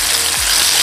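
Batter-coated chicken deep frying in hot oil for KFC-style crispy chicken, a loud, dense, continuous sizzle heard up close for under a second.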